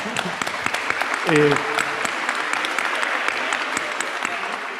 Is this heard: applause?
yes